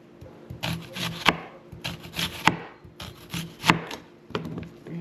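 Knife chopping pepper and onion on a board, with regular sharp chops about every second, each followed by softer scraping and rubbing, close and alone with no talk.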